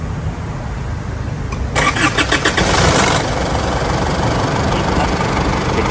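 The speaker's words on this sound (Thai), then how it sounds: "ทีนี้ผมจะสตาร์ทเครื่องให้ดูก่อนครับ" A car engine cranks and catches after a repair with new parts fitted, a short burst of starter whirring that settles into a steady close idle.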